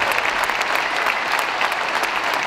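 An audience applauding prize-winning youth teams at a cup award ceremony, a dense continuous wash of clapping at even volume with no talk over it.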